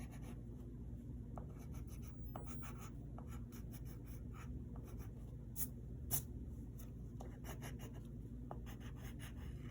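Pencil scratching lines onto paper while sketching a chibi-style character, with a steady stream of short strokes and light rasping close up, quiet and without talk.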